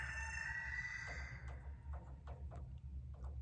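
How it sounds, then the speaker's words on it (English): A rooster crows once, faint and distant, over a low steady background hum, followed by a few soft clucks. "That was my rooster, if you heard him."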